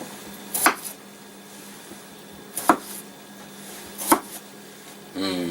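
Three sharp knife chops through baby potatoes on a cutting board, evenly spaced, close and distinct against quiet room noise, followed by a short rustle.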